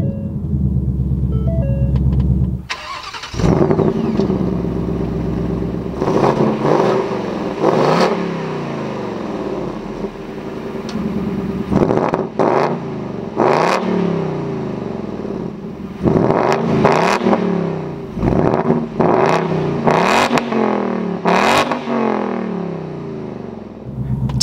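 A 2021-2022 Ford Mustang Mach 1 cranks and fires up with a sharp roar, then settles into a loud, rumbling idle broken by repeated throttle blips that rise and fall, close and alone without talk.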